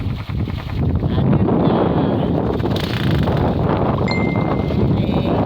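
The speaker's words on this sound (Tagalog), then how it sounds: "Ang hangin." Steady wind roars across a mountain road, a continuous broadband rush buffeting the microphone for the whole stretch, with no talk over it.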